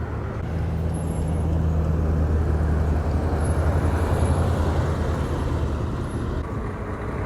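Steady street traffic noise at a cruise event, with cars, trucks and buses passing continuously at moderate loudness, a low engine rumble underneath and occasional faint high brake squeals.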